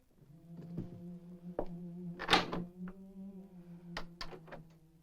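A door is unlocked and swung open in a western TV drama: a few wooden clunks and one louder thump, close by, over a low steady musical drone with no talking.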